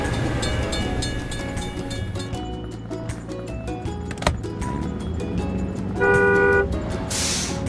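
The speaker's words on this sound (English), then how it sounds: "We have to wait for the train to pass." A train rolls past a closed crossing gate in a children's video game, with a steady rumbling clatter, repeated toots and a bright synthetic chime, loud and close throughout.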